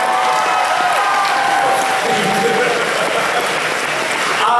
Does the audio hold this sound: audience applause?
yes